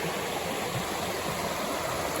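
A river runs straight through a rural property paddock in the Scenic Rim, giving a steady, close, full rushing wash of flowing water with no voices.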